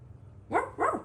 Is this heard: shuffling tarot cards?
no